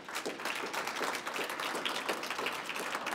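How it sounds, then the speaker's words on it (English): An awards-event audience applauds an honoree's sixth anniversary, with dense, steady clapping from many hands filling the room for a few seconds. "So a round of applause for Sherry for her 6th anniversary."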